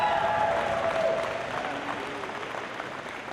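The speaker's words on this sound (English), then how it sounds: "A round of applause for all of our judges." An audience at a FIRST robotics district opening ceremony applauds the event judges; steady, dense clapping fills the room, holding fairly even before easing slightly toward the end.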